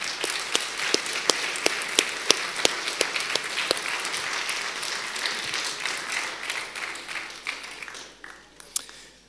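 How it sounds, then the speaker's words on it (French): Applause from guests at a wedding ceremony in a church, a room full of hands clapping with sharp individual claps standing out, fading away toward the end. "On peut encore les applaudir bien fort"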